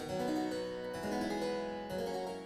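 Thin, bright plucked harpsichord strings play a steady sequence of notes, each with a quick twangy attack and short ringing decay, heard alone and fairly close.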